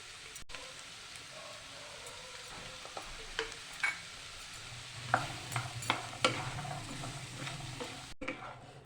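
Mixed vegetables with turmeric and chili fry quietly in a pan over medium flame, a soft sizzle broken by scattered clinks and scrapes of stirring that grow busier toward the end.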